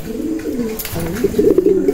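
A racing pigeon named Tisoy, sibling of a long-distance champion, coos in low, throaty, repeated rolls up close, the calls swelling and growing busier toward the end.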